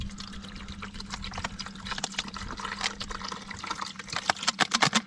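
Water pours into a box during a magnet fishing find, a steady splashing fill with bubbling and sloshing that grows more choppy toward the end, close and alone without talk.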